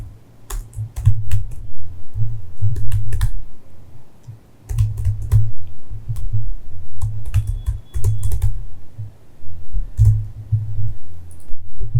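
Computer keyboard typing code, loud and close, with rapid clattering keystrokes in uneven bursts and brief pauses throughout, and no talking.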